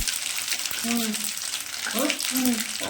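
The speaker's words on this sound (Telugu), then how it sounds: "ఆయిల్ నాలుగు స్పూన్లు వేసుకుంటాము అందులో సాసువులు ఒక రెండు స్పూన్లు వేసుకుంటాము తర్వాత ఎండుమిర్చిని తీసుకొని వేసుకుంటాము" Mustard seeds and dried red chillies sizzle in hot oil for tomato chutney, a steady crackling hiss with a few faint spatters, heard alone at close range.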